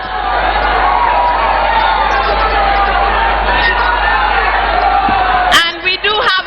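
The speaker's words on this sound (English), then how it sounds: "please let us welcome Dr. Hannah Louisa Bisu with a resounding round of applause." A large crowd at an outdoor NDC political rally roars with sustained applause and cheering, loud and continuous, before it breaks off into scattered shouts at the end.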